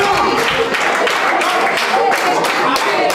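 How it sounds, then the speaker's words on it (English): A loud crowd at a live six-man tag team wrestling match in Greensboro, North Carolina, with steady applause and cheering throughout and dense, continuous clapping noise. "This crowd is loud for this match here in Greensboro, North Carolina"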